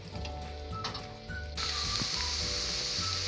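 Chopped onion fries in a pan for dal moong, and the sizzle jumps louder partway through, turning into a bright, steady hiss with light clinks from a spoon.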